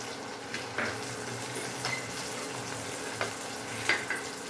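Field beans going into a frying pan: a steady soft sizzle and frying hiss throughout, with a few light clinks and scrapes from stirring scattered over it, close and moderately loud, no talking.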